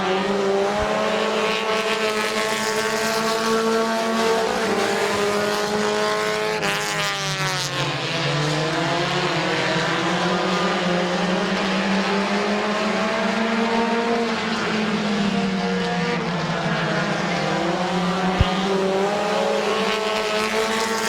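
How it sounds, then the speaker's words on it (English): Race cars roar around a speedway oval during a stock-car event, a continuous loud engine drone with shifting pitch as several cars pass and battle for position, no talk. "Bobby Gaynor and the 18 of Tim Frederick battle for the 4th and 5th positions"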